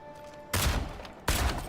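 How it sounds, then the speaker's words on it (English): Two loud, close gunshots in the video game Avowed, fired in a town less than a second apart, each a sharp burst with a short rumbling tail over faint ambient tones. "Hope people don't mind when I shoot my guns in town."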